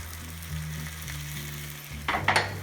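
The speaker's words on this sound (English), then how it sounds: "then I start to lift up and let a little raw egg run under. So it's all cooking" Eggs sizzle in a non-stick frying pan, a steady soft crackle with faint low tones, then a brief louder burst of spitting near the end; no talking.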